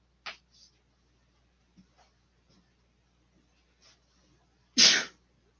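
A single loud sneeze bursts out near the end of a quiet stretch in a college math classroom during a lecture, preceded by faint scattered shuffles and soft sounds.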